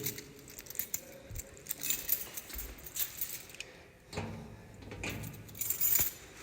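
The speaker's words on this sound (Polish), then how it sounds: "Tyle kluczy." A big bunch of keys jangles and clinks close by, in irregular bursts of metallic rattling with quieter pauses between, no speech over it.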